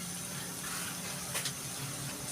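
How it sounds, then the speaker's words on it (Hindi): Water poured into a kadai holding chicken for Balochi tikka, a steady hissing splash and gush that stays even throughout with a brief louder spurt near the end. "अब हम इसके अंदर थोड़ा सा पानी डालेंगे"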